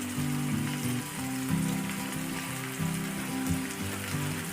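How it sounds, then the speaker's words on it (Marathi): Onion and tomato fry in a pan for a paneer coating masala, a steady soft sizzle under a background tone that shifts in pitch. "दोन ते तीन मिनटं फ्राय करून घेऊया कांदा आणि टोमॅटो"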